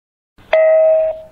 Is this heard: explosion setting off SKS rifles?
no